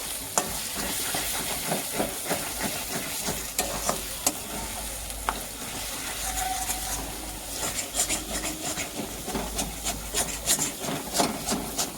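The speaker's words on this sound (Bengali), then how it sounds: "এবার এটাকে এর সাথে ভালো করে মিশিয়ে নেব।" Wooden spoon scraping and stirring coriander powder into a sizzling masala in a pan, with irregular rubbing strokes and gentle frying sizzle throughout, close and moderately loud.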